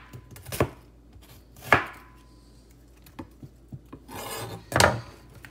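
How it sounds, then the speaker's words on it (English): A knife roughly chopping an onion on a cutting board, a few separate crunchy thuds and scraping strokes spaced irregularly, close and clear with no talking. "Again, onion, you peel it like this. You hold it like that. And just rough chop."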